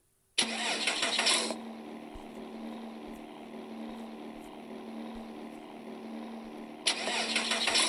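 A Bugatti supercar in a racing game fires up with a sharp roar at startup, settles into a steady idle hum, then revs loudly again near the end.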